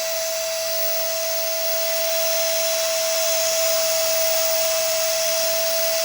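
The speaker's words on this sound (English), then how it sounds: "when you can carve with a diamond bit, you got some soft wood" A Dremel rotary tool with a diamond bit carves soft balsa wood, a loud, steady, high-pitched whine that runs unbroken and close by.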